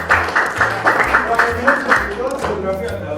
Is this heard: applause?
yes